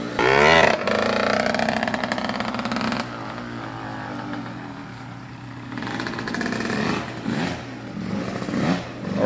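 A dirt bike engine revs high and buzzes for a wheelie attempt, starting with a loud blast that falls to a rough idle, then swelling again through repeated throttle surges close by.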